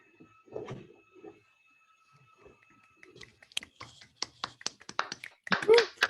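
Scattered applause from a small audience after a talk, coming through a video call. Sparse, uneven claps build toward the end, following a stretch of quiet talking.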